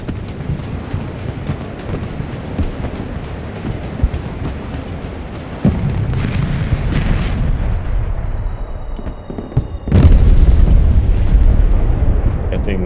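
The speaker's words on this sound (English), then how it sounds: "Fighting Falcon bombing strikes." F-16 Fighting Falcon bombing strikes hit in Broken Arrow, a rolling series of heavy explosions and deep rumbling blasts. A big detonation lands near the end over continuous battle noise, with a voice speaking now and then.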